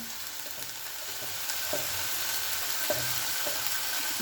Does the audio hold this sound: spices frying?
yes